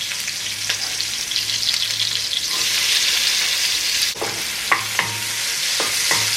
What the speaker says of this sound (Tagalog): Lagay na natin ang ating sibuyas.